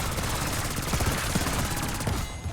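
Dense, continuous automatic gunfire from a Black Ops 6 Zombies match, a steady rapid stream of shots filling the whole stretch and cutting off abruptly near the end.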